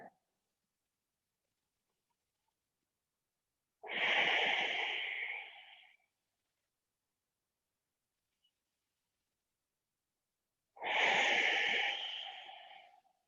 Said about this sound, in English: Give me 5 full rounds of breath here.